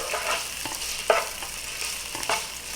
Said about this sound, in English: Now that we have the pancetta cut up, give this a nice little stir.